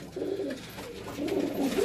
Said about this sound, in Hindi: ये खान साहब के घर की ब्रीड है शेरदिल कबूतर जो 90 साल पुरानी है।